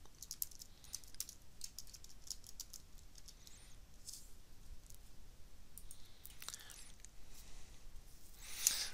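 A university username and password typed on a computer keyboard, soft and fairly faint keystrokes in scattered clusters over a quiet room hiss, with no speech.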